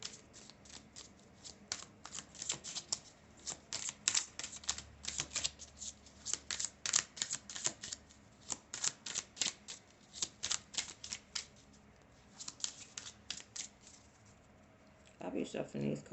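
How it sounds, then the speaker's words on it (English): Tarot cards shuffled hard by hand, a rapid series of crisp riffling snaps in bursts, close and fairly faint, with a voice talking at the end. "I'll be shuffling these cards, man. Hard."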